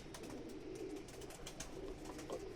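Rooftop pigeons, a female bajri among them, coo in low, steady murmuring bursts close by, a soft continuous burble with no voices.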